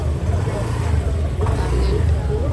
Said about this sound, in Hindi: यहाँ पे एक स्कूटी और वहाँ से एक बाइक आ रही है